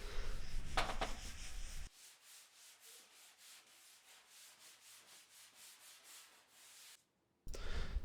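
Steady back-and-forth rasping of sandpaper rubbing the smooth sides of a surfboard, repeated in even strokes, close by with no talk.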